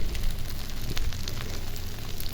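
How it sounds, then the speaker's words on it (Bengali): An egg sizzles and crackles in hot oil in a pan, a dense, steady frying hiss that fills the whole short moment without any talk. "দেখুন, এই তেলের ভিতরে আমি ডিমটা ভেজে নেব"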